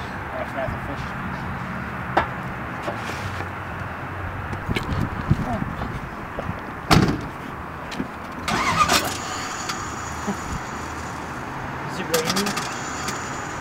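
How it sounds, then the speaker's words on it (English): A Nissan S13 SC240 with a failing starter cranks and struggles, giving rough bursts around the middle and again near the end over a steady engine-and-road rumble, with people talking throughout. "So we're having some starter issues, making some fucky noises."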